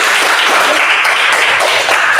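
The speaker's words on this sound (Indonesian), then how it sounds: "Coba berikan aplaus kepada" A classroom audience claps for a group's presentation during a teaching session, a dense, loud, even burst of applause lasting a couple of seconds.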